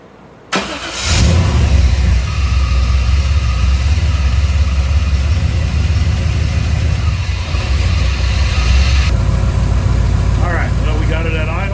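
A V8-swapped Chevy S10 cranks and fires up, then settles into a loud, steady, deep rumbling idle with a light rev, close to the mic.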